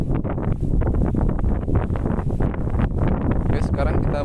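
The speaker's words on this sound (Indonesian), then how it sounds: "Ini angin lumayan kencang juga ya." Strong wind buffets the microphone in a steady loud roar at an open toll road construction site near an underpass fill area, with faint talk partly buried in the gusts.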